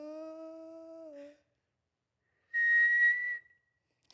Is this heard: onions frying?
no